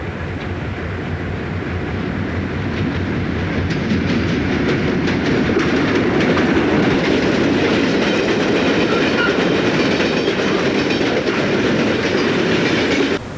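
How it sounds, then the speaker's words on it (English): A westbound freight train led by two GE locomotives, one large and one small, rumbles steadily past up close, a broad continuous roar with rail clatter building and holding loud for the whole stretch, no voices. "Here comes a westbound, 2 GEs, a big one and a little one."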